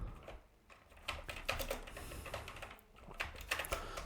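Rapid keystrokes on a computer keyboard as a search keyword is typed in, coming in quick close bursts with brief pauses between words.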